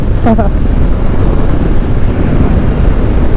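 Steady, loud wind roar buffets the microphone throughout while riding a QJ Motor Fortress 160 motorcycle at around 100 km/h, a continuous low rumble with a brief higher whine near the start.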